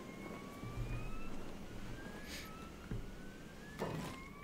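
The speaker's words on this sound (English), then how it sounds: "the siren coming out in Venge" A thin electronic siren tone from the video game Kenshi, sounding in the town of Venge, slowly rises and repeats over a low rumbling background, with a couple of dull thumps along the way.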